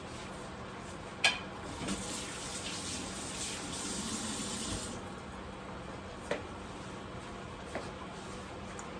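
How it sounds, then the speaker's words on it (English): Kitchen tap running steadily as hands are rinsed under the water while making homemade spaghetti sauce, a soft continuous splash with a few light knocks, then the flow easing off near the end, no talking. "Let me rinse my hands."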